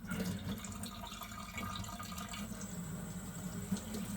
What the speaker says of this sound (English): And then just rinse.